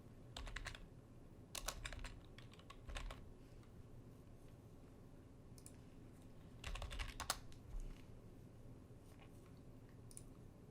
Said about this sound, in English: Activate the email address. Type in the password.